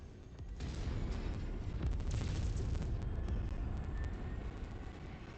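A sustained, loud roaring blast from an enemy vehicle exploding in the MechWarrior 5: Mercenaries video game, dense and rumbling for several seconds with faint crackles layered over it.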